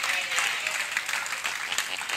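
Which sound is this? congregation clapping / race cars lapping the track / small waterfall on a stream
congregation clapping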